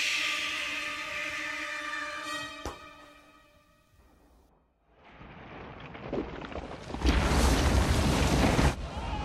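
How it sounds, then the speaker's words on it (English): A cannon blast and the roaring avalanche that follows in a scene from Disney's animated film Mulan (1998): a sustained tonal hum gives way to a deep boom, a brief lull, then a loud, broad rumbling roar. "Mulan grabs Mushu and sets the cannon ablaze"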